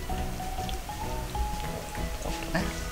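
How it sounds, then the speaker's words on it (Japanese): Croquettes deep-frying in oil at roughly 170 degrees, a dense, even crackle and sizzle of fine popping bubbles with a few sharper pops, fairly close and steady throughout. "この揚げ油のオーケストラの音で飲んでいきます。"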